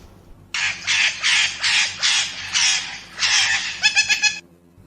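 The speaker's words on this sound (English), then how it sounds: "P for parrot." A parrot gives a run of about eight loud, harsh squawks close by, each about half a second long. They end in a quicker burst of rattling chatter, and nobody speaks.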